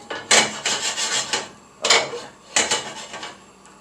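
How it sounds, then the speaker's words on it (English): Onion, garlic and chorizo cook in a paella pan, with repeated rasping scrapes and stirring strokes against the metal over a faint sizzle, close and alone. "we're going to start with the onion, garlic, chorizo. You hear it?"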